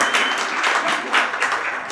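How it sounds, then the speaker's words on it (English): Brief burst of steady audience clapping fills a hall at a New York City benefit event, dense and even for about two seconds. "Worthy of applause."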